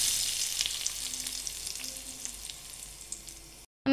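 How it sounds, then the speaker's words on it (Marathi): Mustard seeds and sesame seeds sizzle in about two spoons of very hot oil, a close, steady crackling hiss with tiny pops that fades slightly before cutting off abruptly. "तीळ आणि मोहरी छान अशी फुलू द्यायची"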